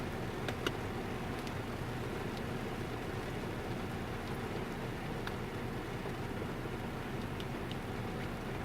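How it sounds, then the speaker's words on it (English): Steady rain falls outdoors as a constant broadband hiss, with occasional sharper drop ticks over a low rumble, continuous and moderately faint throughout. "As you can see, it has started raining."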